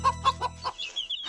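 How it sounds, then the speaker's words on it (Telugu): Cartoon hen with her chicks: rapid clucking pulses from the hen, then thin high peeping from the chicks, close and clear. "కోడి అమ్మ పిల్లలతో వెళుతుంది."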